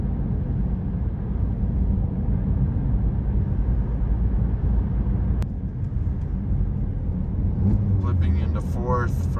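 Volkswagen/Audi car cruising in sixth gear at steady speed, a constant low engine and road drone heard from inside the cabin, with a faint tick midway and a voice speaking near the end.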